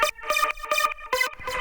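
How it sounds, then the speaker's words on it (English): A bright, buzzy transistor saw wavetable synth lead with phase-sync unison for hard house, playing a short staccato pattern of several punchy stabbed notes that sound on their own. "which is this transistor saw with crazy phase sync unison,"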